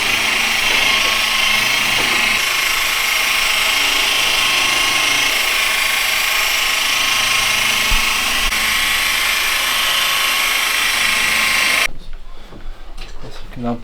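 Power polisher buffing the body panel of a classic Morris Minor car at medium speed, a loud steady high-pitched whir running continuously before cutting off near the end.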